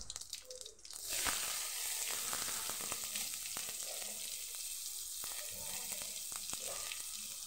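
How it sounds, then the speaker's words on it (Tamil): Chopped onion with cumin and curry leaves sautéing in a pan: after a quiet second, a steady, close sizzle takes over, broken by scattered clicks and scrapes from stirring. "இது வெங்காயம் கொஞ்சம் நல்லா வதங்கட்டும்."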